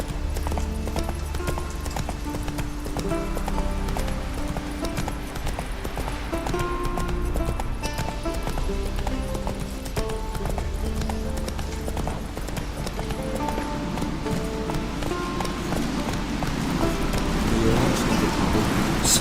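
Horse hooves clip-clopping at a galloping pace in The Witcher 3, a steady rhythmic thudding over soft ambient rain and faint game music, with no talking.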